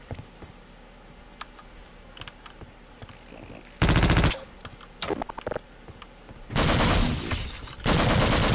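Gunfire in Half-Life: Blue Shift, with bursts of rapid automatic fire and a few single shots from the game, some dense and loud, over faint background clicks.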